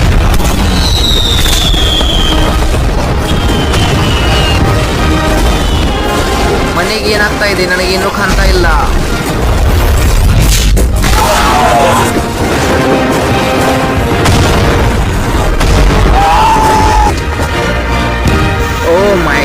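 A house packed with 100,000 firecrackers blows up in a continuous loud barrage of crackling bangs and whistles, with sharp bursts throughout and excited voices talking over it.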